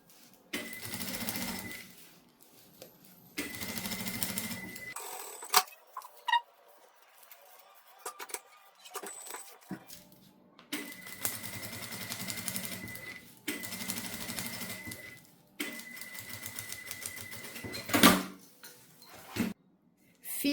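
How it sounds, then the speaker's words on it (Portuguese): A sewing machine runs in several long stitching bursts, sewing the side seams of a fabric sandwich holder, with short pauses between runs and no talking. "E eu vou fazer uma costura nessa lateral e nessa lateral também"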